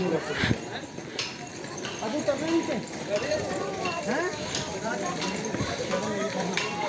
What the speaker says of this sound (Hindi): तो बस 3 किलोमीटर और ये घोड़ा चला है